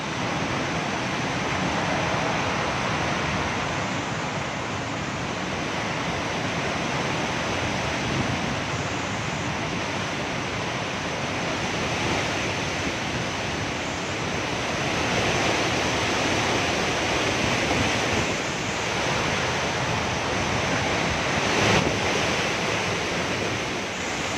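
Strong gusts from Super Typhoon Rolly roar without pause, a dense, steady rush of wind that swells slightly at moments and drowns out everything else.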